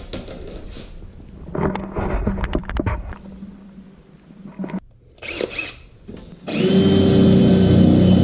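A power drill whirs in short bursts, with clicks and clatter between runs and a longer, steady whine at the end.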